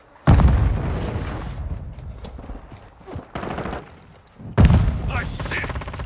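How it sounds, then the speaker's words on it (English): A grenade explodes in the video game Call of Duty: Modern Warfare II: a sharp, heavy boom followed by a rumbling tail and gunfire, then a second loud blast near the end. "Grenade!"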